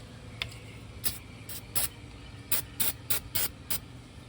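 Several short aerosol spray bursts on a 2008 Toyota RAV4 brake rotor, some quick and some drawn out, hissing sharply over a low background hum.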